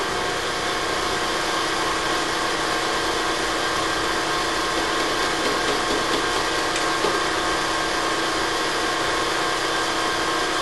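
A machine tool takes a 1 millimeter cut on a BMW connecting rod, giving a constant dense hiss and hum that stays level and unbroken throughout with no speech.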